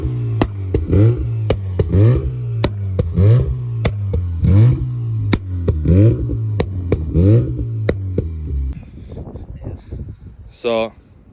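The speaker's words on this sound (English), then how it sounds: "Every gear he shifts, it's just bang bang bang bang." A Mazda RX-7 FC rotary engine revs loudly nearby through a string of rhythmic surges, with sharp bangs on each gear shift, about a dozen in total, before it drops off near the end.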